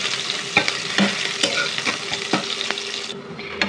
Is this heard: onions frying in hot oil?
yes